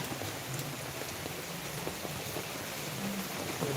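Heavy rain falls continuously on a guppy breeding setup outdoors, an even, dense wash of noise with faint scattered drips and no voices.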